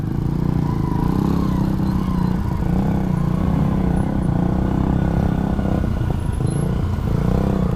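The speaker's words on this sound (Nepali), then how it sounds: "डिस्कभर अब साइलेन्सर पनि मोडिफाई रहेछ नि त यसको मोडिफाई" A Bajaj Discover motorcycle fitted with a modified silencer runs close by with a loud, steady, rumbling engine drone. It holds an even throttle for the whole stretch, with no clear rev peaks.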